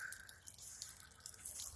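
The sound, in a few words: water dripping out of a truck bed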